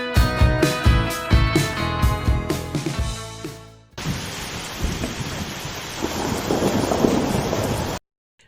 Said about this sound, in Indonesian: Di malam pertama, hujan yang mengguyur perkemahan